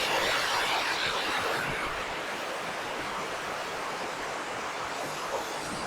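Surging water in a brook basin below a waterfall rushes with a loud, continuous, hissing roar, steady throughout and with no voices.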